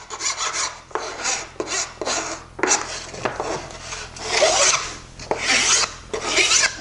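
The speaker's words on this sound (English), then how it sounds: "And then I'll carefully file this too." Short, repeated rasping strokes as a file trims edgebanding flush against a wooden panel, close and distinct, each stroke a gritty scrape with brief gaps between.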